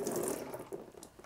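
Cleaning liquid pours onto a scrubbing pad over a tub while an arcade cabinet is being restored, a soft close trickle with small wet splashes and no voices.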